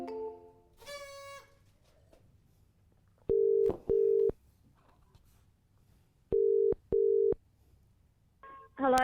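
Outgoing telephone call tones on a call-in business show: a short tone at the start, then two separate pairs of steady, loud ringback beeps with quiet gaps between them, and no talk over them.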